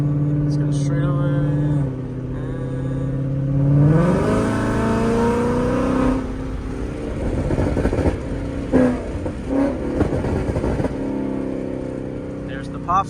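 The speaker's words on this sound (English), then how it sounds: "There's the pops for you. That's that burble tune. It sounds really nice." A Ford Mustang GT with a Borla exhaust accelerates hard, the engine note climbing loudly before breaking into crackling pops and a rumbling burble as it lifts off.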